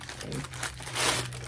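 Packing paper crinkles and rustles up close as a Diptyque holiday candle is unboxed, a brief burst of crumpling that swells toward the end.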